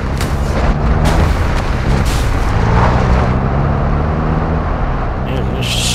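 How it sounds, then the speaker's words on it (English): Gunfire rattles through a Call of Duty DMZ match, loud and dense with booming bursts layered over constant engine and battle noise, while players talk over it. "Man, he's shooting."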